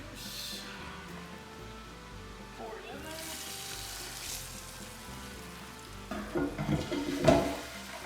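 Seared pork butt goes into a pressure cooker, a soft sizzle running throughout that swells into louder crackling and clatter near the end as the meat drops in.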